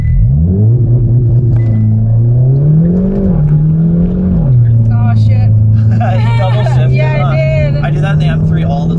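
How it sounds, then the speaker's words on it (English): A 2022 Hyundai Elantra N launches hard from a stop, its engine holding a loud droning tone that climbs briefly then settles into a sustained high-revving pull, with people talking and exclaiming over it inside the cabin. "get our foot on the brake, swat our gas down quickly, and let it launch from the same RPM that we previously tested from."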